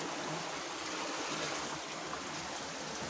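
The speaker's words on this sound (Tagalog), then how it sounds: "Buhos mo yung balde doon" Flood water pours and splashes from a bucket inside a flooded room, a steady rushing, trickling wash of water that holds at an even level throughout with no voices.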